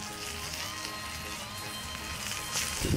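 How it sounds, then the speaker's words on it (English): Soft, steady sizzling and crackle of turkey cooking in a trashcan smoker nearby, faint and even, with a brief rustle at the end. "Get the camera down close so you can hear it sizzling."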